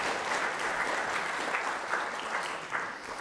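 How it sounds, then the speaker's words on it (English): Congregation applauding the church band at a Sunday morning service, a steady wash of many hands clapping that holds for the whole stretch and tapers only slightly at the end. "Let's just give them a round of applause."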